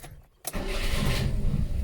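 A Peugeot 204 engine catches after fuel is squirted into it, a short crank and quiet pause giving way to a loud, steady idle that keeps running close by.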